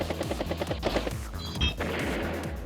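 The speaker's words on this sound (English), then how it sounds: "Bomber takes out the Neo tank" A bomber striking a Neo tank in the Advance Wars video game, heard as a rapid burst of rattling, gunfire-like bangs followed by a heavier crash and a fading rumble.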